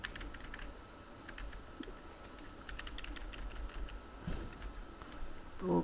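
Code typed on a computer keyboard in quick irregular bursts of light key clicks, close and quiet, with short pauses between runs and no talking.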